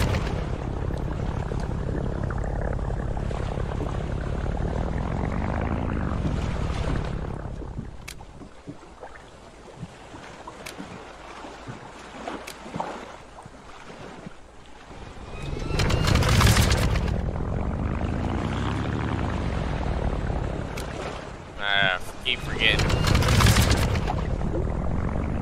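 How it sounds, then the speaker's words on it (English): A propeller aircraft engine in the brewing-themed video game Brew Barons cranks and starts up, a loud sustained engine drone rising and falling with bursts of higher whine, heard alone without talk. "Engine startup."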